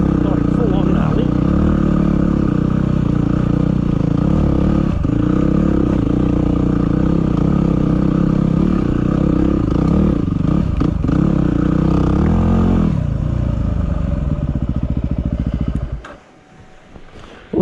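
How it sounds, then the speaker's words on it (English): Motorcycle climbing a steep, rocky 4WD hill track in the Grampians, engine revving and straining close up under clattering and scraping over rocks, until it cuts off near the end. "Just a little pinch here that I'll be riding Jackie's bike up because it's a bit gnarly."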